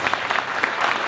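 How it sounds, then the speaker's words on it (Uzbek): Audience applauding teachers at a concert program, a dense, steady wash of clapping from many hands filling the room throughout, fairly loud and continuous with no break. "Biroz olqishlab qo'yaylik ustozlarimizni"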